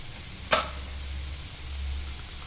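Pav bhaji masala and chili flakes roast in a hot pan on a tawa, a soft steady sizzle with one sharp scrape near the start.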